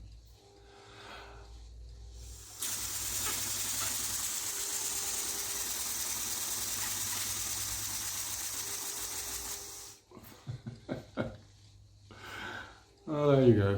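A small balloon-powered single-cylinder air engine car runs with a steady whirring, hissing drone for about seven seconds, then stops abruptly, followed by brief talking and a few knocks.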